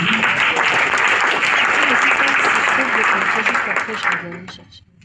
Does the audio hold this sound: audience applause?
yes